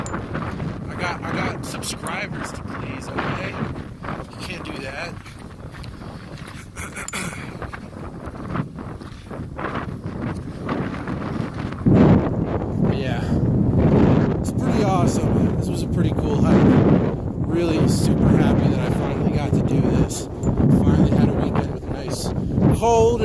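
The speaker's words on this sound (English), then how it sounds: "windy, but nice weather" Strong gusts buffet the microphone on a winter mountain hike in Colorado, a rough roaring wind that swells louder midway and keeps going under people talking.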